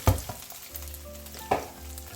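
An egg sizzles steadily in hot oil in a pan while kimchi fried rice is being made, with a few clinks and scrapes of stirring breaking through the close frying hiss.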